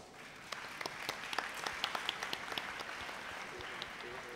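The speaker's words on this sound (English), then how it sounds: "Let's welcome him all with a huge round of applause." An audience of students claps in welcome for a laughter yoga guru at a school address, steady applause with sharp individual claps throughout, moderately distant and fairly soft.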